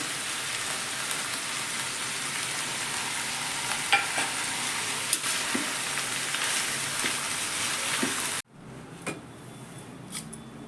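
Mixed vegetables sautéing in a pan with oil and washed coriander, a dense, steady sizzle and crackle up close that cuts off abruptly near the end, leaving a few faint clinks and stirring sounds.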